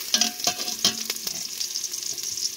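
Chicken gizzards sautéed with garlic and onion over a high flame, a steady close sizzle with a few sharp clinks of a utensil stirring and scraping the pan.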